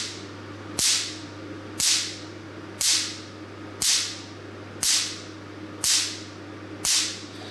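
Picosecond laser machine firing pulses onto paper inside a plastic bag: seven sharp, crisp cracks about one second apart over a steady low hum, each snapping loudly and decaying quickly.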